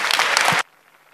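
Audience applause at a security lecture at the 34c3 hacker congress, dense, loud clapping from a large crowd that cuts off abruptly after about half a second, leaving quiet room tone.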